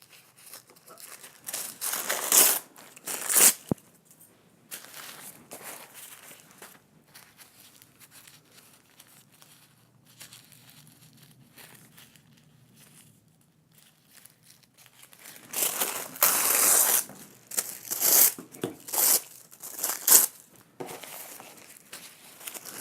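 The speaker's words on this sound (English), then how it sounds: "So you can start by just tearing some pieces." Tissue paper and sparkly paper torn into pieces for decoupage, close crinkling and ripping in uneven bursts, louder near the start and again toward the end, with a quieter stretch in between.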